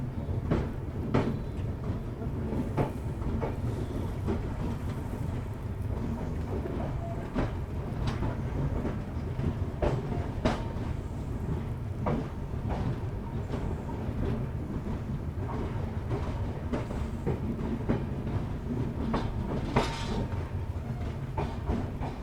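Uttar Sampark Kranti express train running on rails from Delhi toward Katra, a steady rumbling roll with repeated clickety-clack wheel beats over rail joints, heard continuously from inside a coach with no talking.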